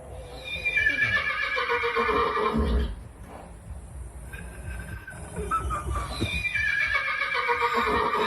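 A dog lets out long, wavering whinny-like cries that imitate a horse, two drawn-out calls separated by a brief pause, close and loud.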